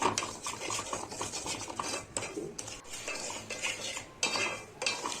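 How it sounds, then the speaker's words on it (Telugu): Bombay rava (semolina) being stirred and fried in a pan, with repeated metal spoon scrapes and clinks against the pan over a faint sizzle, close and busy with brief pauses. "కొంచెం బ్రౌనిష్ కలర్ వచ్చే వరకు మనమైతే ఫ్రై చేసుకోవాలండి దీన్ని"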